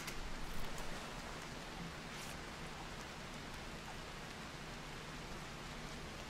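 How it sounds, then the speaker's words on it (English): Heavy rain in the video game RimWorld pours as a steady, dense hiss throughout, with no one talking. "Man, it's raining like crazy."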